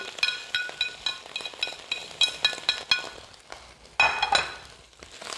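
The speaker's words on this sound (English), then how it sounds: "And we're gonna cook these shrimp shells." Shrimp shells dumped into hot olive oil for scampi, giving a steady close sizzle and crackle with sharp clinks of a utensil against the pan, the frying surging louder near the end.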